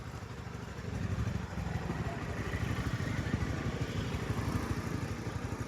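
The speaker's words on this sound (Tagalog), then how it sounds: "nakadaan yung motor doon sa baba." A motorcycle passes somewhere below on a road near a tunnel, its steady mid-pitched engine drone with a low rhythmic pulse holding at moderate distance throughout, no talk over it.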